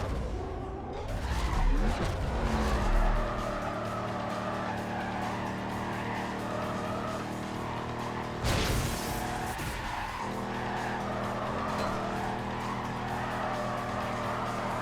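Race car in the video game Need for Speed Carbon, street racing and drifting: a loud, steady engine drone with tire squeal and skidding, a brief harsh burst midway, and no talk.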